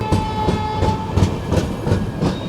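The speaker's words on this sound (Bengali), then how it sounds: "এই হচ্ছে নবদ্বীপ ধাম রেলওয়ে স্টেশন।" A train rolls through Nabadwip Dham railway station, its wheels giving a steady, rhythmic clickety-clack over the rail joints at close range, with no voices over it.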